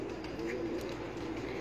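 Champion pigeons kept on a rooftop loft, cooing softly and continuously in a low murmur, somewhat distant and steady, with no talking.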